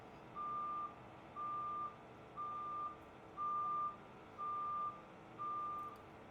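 Semi truck reversing slowly to position its trailer beneath a burned-out garbage truck, its backup alarm sounding six steady, evenly spaced beeps over a low engine rumble.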